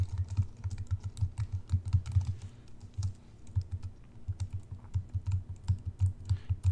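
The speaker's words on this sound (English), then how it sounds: "and then we'll start typing." Rapid, steady keystrokes on a computer keyboard, close and clear with brief pauses between bursts of typing.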